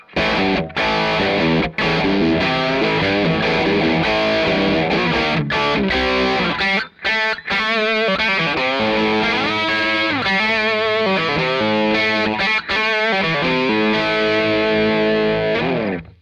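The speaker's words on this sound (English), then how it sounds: "All of the overtones and harmonics that each of the distortion circuits creates are being blended together" An electric guitar plays through a Red Witch Famulus distortion pedal with parallel distortion circuits blended together, heavy rich distortion, thick sustained chords and notes with short gaps between phrases.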